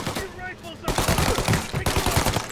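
A Tommy gun fires in the game Mafia: Definitive Edition, a loud, rapid automatic burst that starts abruptly after a brief lull and rattles on to the end, with a voice faintly heard at the start.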